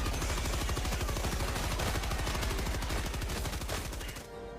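A machine gun firing in the video game Helldivers 2, a loud sustained burst of rapid, evenly spaced shots hammering continuously before stopping abruptly at the end.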